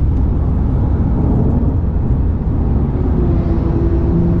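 Loud, continuous engine roar from inside a Porsche 991 GT3 lapping the Nurburgring, a dense steady drone filling the cabin with no talk over it.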